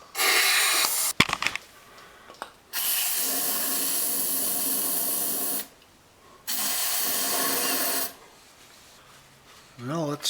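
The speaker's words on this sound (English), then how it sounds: "Just using this engine storage spray." Several long hissing bursts from an aerosol can of engine storage spray used on a 1972 Honda CB750 motorcycle engine, each lasting a few seconds with short pauses between, close and loud.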